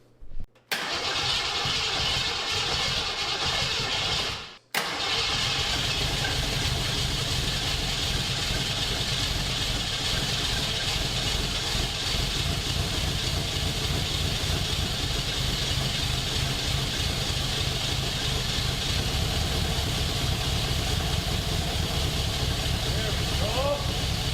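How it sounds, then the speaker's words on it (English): Jeep Grand Wagoneer engine with a suspected bad alternator bearing and exhaust leaks starts after a short crank and settles into a steady, loud, close running drone with a constant whine. "I think we have a bad alternator bearing."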